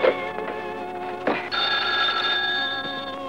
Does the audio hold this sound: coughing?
no